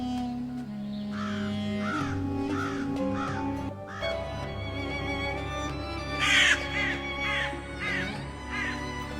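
A crow caws in a few rounded, repeated calls over a steady musical background, with one sharper, louder call partway through.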